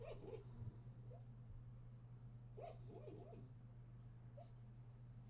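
A sleeping dog whimpers and gives soft muffled barks while dreaming, a few brief faint yelps scattered over a steady low electrical hum indoors.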